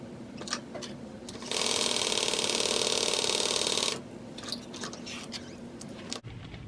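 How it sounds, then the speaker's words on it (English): A sewing machine stitches two fabric pieces of a harlequin bag together, a loud steady motor whir running for about two and a half seconds between quieter handling clicks and rustles. "And now we sew these two together like this."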